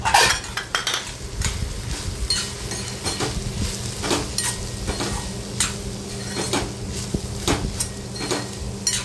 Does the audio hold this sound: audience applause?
no